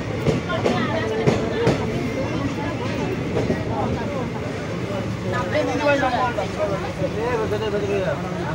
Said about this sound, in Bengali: এখন আমাদের ট্রেন ঢুকছে বর্ধমান স্টেশনে